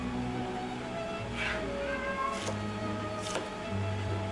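A hungry house cat meows two or three times, short and fairly faint, behind a steady hum of kitchen background noise with no talking.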